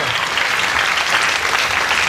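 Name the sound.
audience applause at a concert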